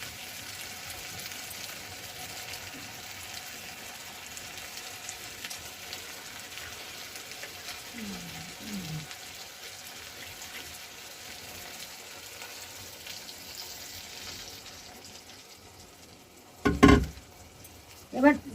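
Small fish curry (chara macher jhal) sizzles in a pan after a little water is added, a soft continuous crackle with a few clinks and louder knocks near the end.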